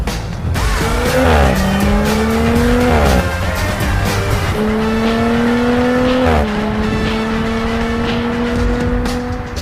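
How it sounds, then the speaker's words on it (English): An Audi RS4 Avant estate builds speed hard, its engine note climbing through several gears with short dips at each shift. The sound is loud and sustained, with tire noise underneath and no voices. "the way that the RS4 piles on speed is just phenomenal"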